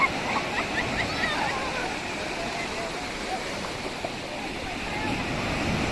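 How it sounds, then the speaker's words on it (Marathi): Waves break and wash continuously on a beach at Pirwadi, a broad steady surf roar with wind buffeting the microphone, as people talk and call out over it. "मोठी लाट आली छोटू लाट काय"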